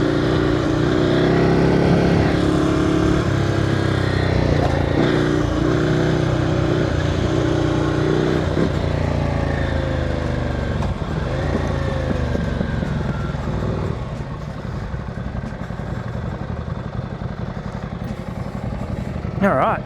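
A Ducati Scrambler motorcycle rides over a series of bumps, its engine droning and varying in pitch under wind rush, with jolts and rattles, growing somewhat quieter toward the end.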